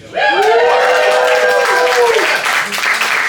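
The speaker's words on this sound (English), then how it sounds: "please, keep the applause going for Volar" An audience at a comedy roast claps in a loud, dense burst of applause, with a long drawn-out vocal whoop rising over it before the clapping thins out.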